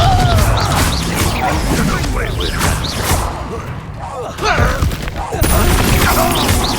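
A Confringo spell cast during combat in Hogwarts Legacy, a dense run of blasts, whooshes and crashes at steady loudness for about seven seconds, with game voices speaking over the action.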